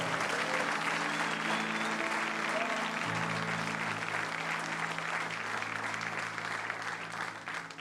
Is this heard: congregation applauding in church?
yes